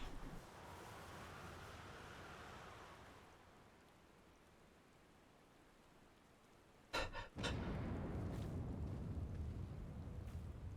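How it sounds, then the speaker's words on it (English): Explosion of electro jammers in Final Fantasy XIV: after a quiet rumbling stretch, a sudden sharp double burst hits near the seven-second mark and gives way to a loud, sustained roaring blast with crackle. "That's an explosion. And I'm pretty sure electro jammers aren't supposed to explode."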